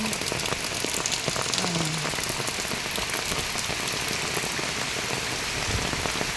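Heavy typhoon rain pounds steadily on surfaces, a dense, continuous patter close by with no break.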